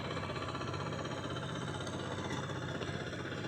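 A rice transplanter works a paddy field, its small engine running at a steady, busy chatter with a fine rapid knock. The sound fills the background continuously and evenly, with no voices over it.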